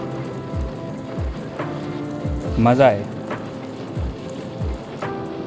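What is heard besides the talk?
heavy rain during bike road trip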